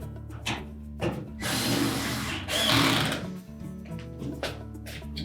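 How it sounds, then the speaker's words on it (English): A power screwdriver whirs in two bursts, driving screws up through the front panel into the top of a GE dryer, close up, with brief pauses and clicks between runs. "now we'll secure it with the screws up through the front panel into the main top"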